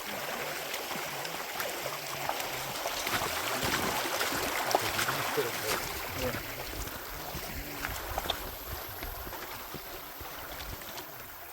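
A forest stream flows along the Karimala trail to Sabarimala, giving a steady broadband rush of water heard close by, with people talking over it throughout.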